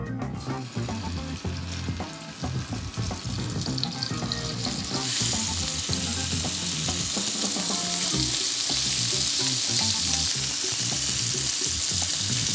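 Pork ribs frying in a multicooker to form a light crust, a steady close sizzle that swells into louder, dense crackling partway through and holds there, with no talk.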